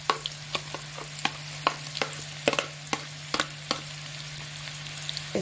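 Onions frying in a pan for a stuffed-vegetable sauce, with a steady low sizzle and regular sharp clicks of a spoon stirring against the pot, close and moderately loud, no talking.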